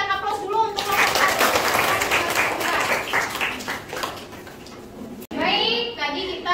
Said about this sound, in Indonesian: kita berikan aplaus dulu untuk kelompok